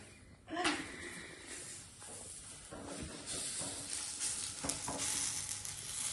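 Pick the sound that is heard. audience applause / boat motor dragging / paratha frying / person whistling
paratha frying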